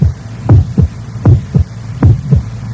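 A heartbeat sound effect in a late-1960s Duracell battery radio advertisement thumps in steady lub-dub pairs, loud and deep over a low hum, with no talking.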